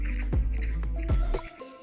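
Borax stirred into warm water in a bowl, producing close, wet sloshing and swishing strokes with a few soft drips, rhythmic and near with no talking.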